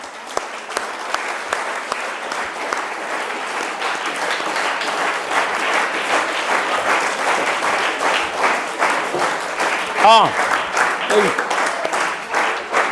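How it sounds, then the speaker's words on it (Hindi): An audience applauds for madam at a debate winners' ceremony for a Class 9 social studies debate, with steady, dense clapping lasting throughout and a brief spoken word and voice rising near the end. "मैडम के लिए तालियां।"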